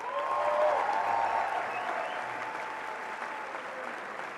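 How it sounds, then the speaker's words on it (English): Steady applause from a commencement audience at Claremont McKenna College's 78th ceremony, honoring the graduating MA and BA/MA class of 2026; a broad wash of clapping that holds level, then eases slightly, with faint tonal sounds through it. "Welcome your applause for the MA and BA/MA class of 2026."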